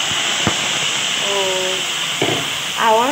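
Steady steam hiss from a pot of moong dal cooked with fish head, onion, garlic and ginger, running under the whole stretch with brief bangs and a few high whistling tones near the end; a voice is heard briefly.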